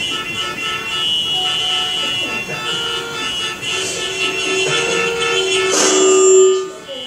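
A horn sounds in a few sustained, bright blasts with steady tones, fairly loud and close, swelling near the end before cutting off.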